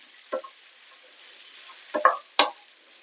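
Grated carrot and mixed vegetables stirred in a pan for upma, giving three short scraping strokes, one soft and two louder close together, with no talking.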